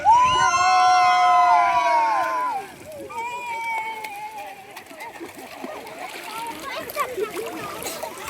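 Bathers of all ages splash and play in the pool of a waterfall in Tamil Nadu, water sloshing and spattering under excited shouts and a loud cry at the start, with people talking and calling out throughout.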